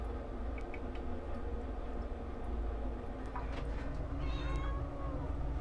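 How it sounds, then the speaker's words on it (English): A cat meows for attention, faint and distant over a steady low background hum, with a couple of short high cries standing out near the end. "Meow."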